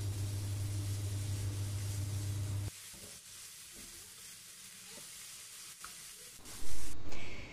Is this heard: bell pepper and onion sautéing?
yes